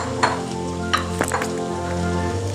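Garlic paste and chopped capsicum sizzle steadily in a hot frying pan, with a few sharp stirring clinks and scrapes over a constant close frying hiss.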